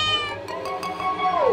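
A single cat meow plays as a sound effect in a narrated Hindi children's story about a cat living in a warehouse. The clear, close cry rises and then slides downward over about a second.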